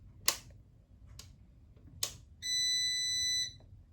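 An electronic machine being tested gives out a sustained, piercing beep lasting about a second, preceded by a few sharp clicks and taps in an otherwise quiet room.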